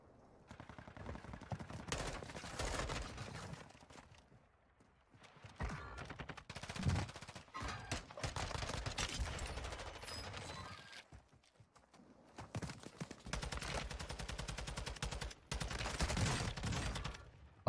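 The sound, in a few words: TAQ56 gunfire in the video game Warzone 2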